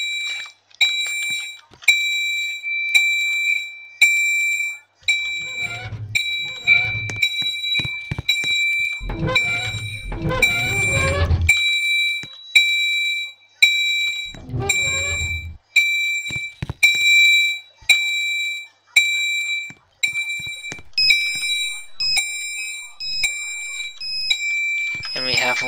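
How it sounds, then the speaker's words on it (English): Fire alarm chimes from a key-activated alarm system in a Roblox mall, with bright, repeating bell-like tones ringing steadily throughout, while a person talks under the chimes in a few stretches. "All the alarms are set to chime."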